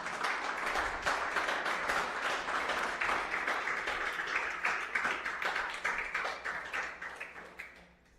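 A church congregation claps and applauds together, a dense, steady patter of many hands at moderate distance that fades out toward the end, with no speech over it.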